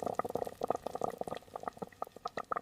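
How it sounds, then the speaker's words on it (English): Liquid bubbles steadily inside large stainless steel fermentation tanks, giving a close, continuous stream of quick gurgling pops. "Inside, thousands of tiny bubbles rise steadily to the surface of the liquid."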